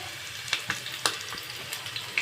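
Garlic fries in a pan as it turns brown, a soft steady sizzle with a few faint clicks and crackles scattered through it, close and quiet.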